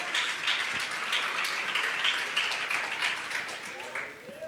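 A congregation applauds during a Portuguese-language church sermon on the resurrection, giving sustained, dense clapping from many hands for several seconds that fades slightly at the end.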